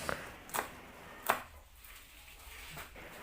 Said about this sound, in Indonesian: ini aku gunakan 5 biji cabai rawit merah diiris serong